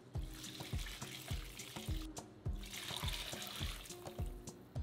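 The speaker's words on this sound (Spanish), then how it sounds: "Empezamos a agregar el caldo de la carne." Meat broth poured in repeated splashing glugs into tamale masa, liquid trickling and slopping in uneven bursts, close and moderately loud with no talking.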